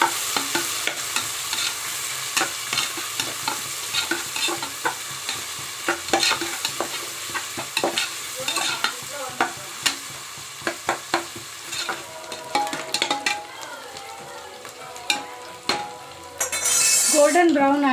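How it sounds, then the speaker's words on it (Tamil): Onions sautéing in a pan until golden brown, with steady frying sizzle broken by frequent scrapes and clinks of a spoon stirring against the metal pan, close and fairly loud throughout. "ஆனியன் நல்லா கோல்டன் ப்ரௌன் ஆகுற வரைக்கும் வதக்கணும்."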